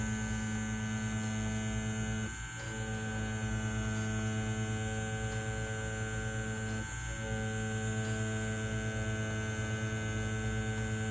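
A Mummy wireless tattoo machine runs with round shaders while pulling large lines, giving a steady, even electric hum that holds unbroken throughout with only slight dips.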